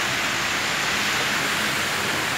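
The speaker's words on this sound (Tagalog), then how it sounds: "lumakas na ang ulan" Heavy rain pours in a dense, steady hiss, loud and unbroken throughout with no voices.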